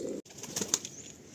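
Andhra pigeons, a breeding pair kept by a fancier, make soft cooing and a brief flutter close by, after a short hum that cuts off early; no talk.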